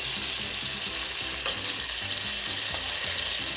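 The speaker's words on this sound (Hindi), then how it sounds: "तकरीबन हम इसे 2 मिनट के लिए तेज़ चूल्हे पे भूनेंगे।" Potatoes and spices frying over a high flame, an even sizzling hiss with faint scraping and stirring sounds underneath, continuous and close.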